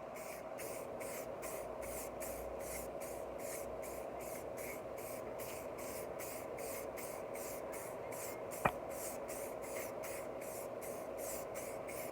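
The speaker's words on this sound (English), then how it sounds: "to put some clear lacquer on the top, which is going to seal everything in, and it's going to make it waterproof" Aerosol can spraying clear lacquer onto a VW badge, a faint steady hiss pulsing in rapid regular bursts throughout, with one sharp tap near the end.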